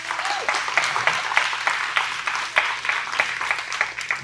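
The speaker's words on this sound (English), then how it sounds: "a round of applause for my wife" An audience applauds a speaker's wife at a talk, a dense, steady patter of many hands clapping throughout with a few louder individual claps standing out.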